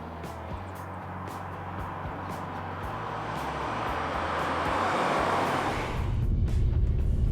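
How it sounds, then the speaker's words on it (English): A 2008 Acura TSX with a K-Series engine and 6-speed manual, a steady interior engine hum and road noise that builds gradually, then a shift into a louder, rougher drone near the end. "Driving the Acura TSX is an incredibly enjoyable experience."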